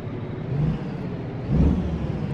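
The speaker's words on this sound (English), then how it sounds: "here's what the 8V92 sounds like" A Detroit 8V92 diesel engine in a Brockway truck in a truck simulator game revs twice, giving two brief, rising diesel roars over a steady low engine rumble, with no voices.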